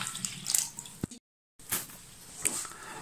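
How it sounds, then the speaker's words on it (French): Water being poured into a well of flour, sugar and powder for puff pastry dough: faint trickling and splashing pours come in two bursts separated by a brief silent gap. "on met l'eau."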